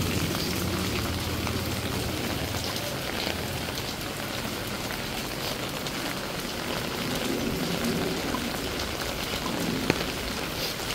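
Steady rain falls on a Manila street during a typhoon, a dense, even hiss of drops spattering on surfaces, continuous and fairly close with no pauses.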